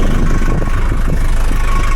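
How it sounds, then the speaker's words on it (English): A 1979 Mercedes-Benz W123 engine idles nearby with a steady, low rumbling hum, mixed with some wind noise. "I'll keep the engine running."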